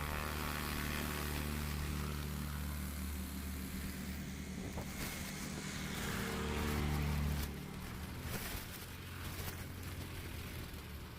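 Highlander STOL airplane waiting at the line during STOL practice at Patriot Airpark, Oklahoma, its propeller engine running with a steady loud drone that swells briefly and then settles again.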